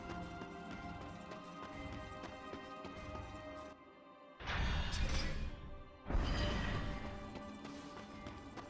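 Horse hooves in the game Darksiders clop in quick runs over a bed of steady music, with louder heavy bursts of galloping and impact after a brief drop in sound.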